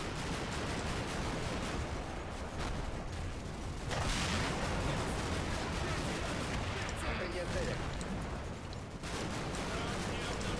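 Artillery spotting rounds in the Combat Mission: Black Sea war game, fired toward a wood: distant dull booms and crackling gunfire in dense, continuous battle noise, with someone talking throughout.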